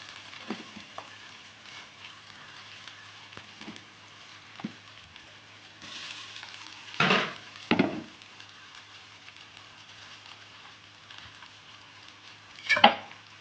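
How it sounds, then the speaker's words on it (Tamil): Cooked ragi vermicelli is stirred in a pan over low heat, giving a few short scraping and clattering strokes spaced out over quiet background sizzle, fairly soft and close. "ஆட் பண்ணிவிட்டு நல்லா இது மாதிரி கிளறி விட்டுக்கலாம்"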